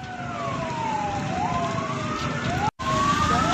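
A wailing fire engine siren responding to a burning election supervisory office in Palangkaraya, Indonesia, sweeping up and down loudly and close with traffic rumble underneath, cut by a brief dropout near the end.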